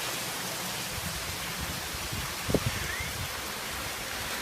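Steady rain hisses evenly with windy noise during a hurricane, a constant broadband wash with a brief thump partway through.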